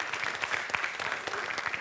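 Applause for a primary school team at a school cup-stacking competition, a steady crowd clapping throughout with dense overlapping claps and no break.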